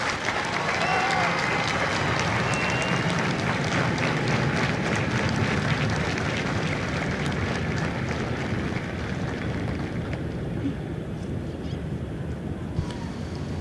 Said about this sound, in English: please join me in a round of applause for the company staff